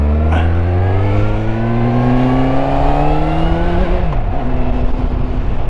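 A motorbike engine runs steadily and loudly up close, its tone climbing gradually then dropping briefly near the end before settling again, with no voices.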